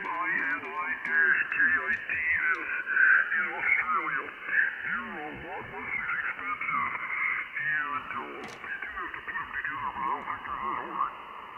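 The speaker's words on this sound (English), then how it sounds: "Oh my God, I've never heard this satellite that good." Amateur radio signals received from an RS-44 satellite pass, with continuous voice transmissions that sound filtered and thin through a radio, carrying warbling, shifting tones and steady background noise.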